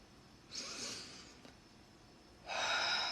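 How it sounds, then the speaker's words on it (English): A person breathing slowly during a guided anxiety-relief breathing exercise: a soft, airy inhale, a quiet held pause, then a louder breath starting near the end, close and alone. "then breathe again when we feel like it"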